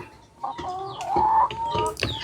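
Hens clucking inside a free-range coop among crates and old tyre nesting spots, several short overlapping clucks and one rising drawn-out call, close and fairly loud.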